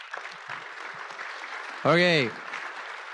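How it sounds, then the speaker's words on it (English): Audience applause rings out as a steady, moderate wash of clapping at a public session with a minister, with a brief spoken word rising over it near the end. "Did Tim start that applause, or no?"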